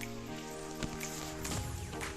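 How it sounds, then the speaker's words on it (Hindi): Light rain falls steadily around a home near Dehradun, a soft continuous patter with a few sharper drips, heard close under a constant low hum. "ये देखो बारिश तेज भी नहीं है पर अब अच्छी है,"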